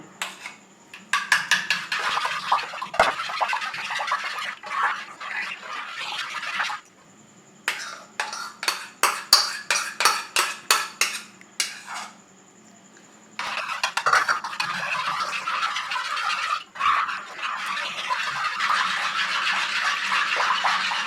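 A spoon scrapes and clatters in a bowl as mango pulp is stirred into yogurt, in long bursts of quick rhythmic strokes broken by brief pauses.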